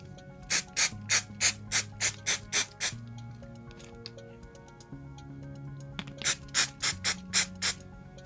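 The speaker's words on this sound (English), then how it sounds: "I'm going to first clean everything up using the brake and clutch cleaner" Brake and clutch cleaner sprayed onto an RC buggy differential during a Losi 8ight 3.0 rebuild: two bursts of short, sharp, rhythmic spritzes, close and loud, separated by a quieter gap of faint squeaky handling noise.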